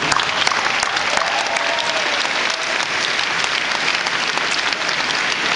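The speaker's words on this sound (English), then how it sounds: "a round of applause" Sustained applause from a gala audience at a 2008 fashion charity benefit, a dense steady patter of many hands filling the whole stretch at even loudness.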